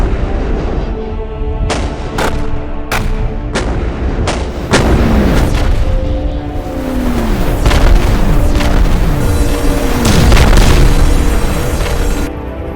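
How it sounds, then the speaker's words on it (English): Warships bombard an oil platform in the Sea Power naval video game: repeated heavy artillery booms and explosions at an uneven pace, each followed by a rumbling, falling tail, loud and continuous. "the Merrill and Lind McCormick bombard the platform for another 40 minutes"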